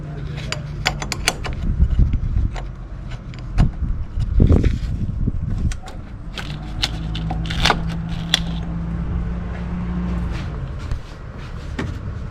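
Wrench clicks and metallic ratcheting while the negative battery terminal is loosened on a 2010 Toyota RAV4, with close mechanical clatter, small knocks and rattles spread across a steady low background hum.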